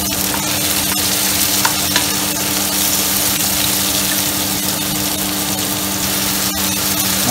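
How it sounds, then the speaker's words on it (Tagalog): Porcini mushrooms sauté with garlic and onion in a pan, giving a steady, close sizzle and crackle with a constant hum underneath, broken by a few faint stirring clicks and no talk. "Kung napapansin po ninyo habang ginigis ako, nagre-release po ng tubig."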